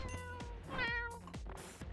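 A cat meows in the video game Noita with the More Critters mod, two or three close, clear meows in quick succession with no one talking.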